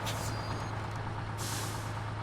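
A truck in SnowRunner lets off two sharp hissing bursts of its air brake over a steady low engine drone.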